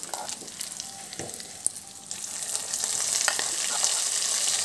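Drumstick leaf chutney fries in a pan, starting as a light crackle with a few clicks of stirring and swelling into a steady, close sizzle.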